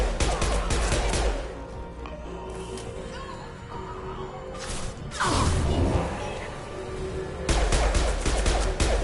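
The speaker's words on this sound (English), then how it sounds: "Firing concussive shot!" A concussive shot ability fires in a video game with Commander Shepard: loud, crunching blasts with a whooshing burst in the middle and another near the end, set over a steady bed of game noise.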